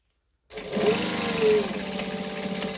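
A sewing machine stitches through a fabric case, starting abruptly after a moment of silence and running steadily up close with a fast, even mechanical whir and needle rattle that briefly rises as it backstitches.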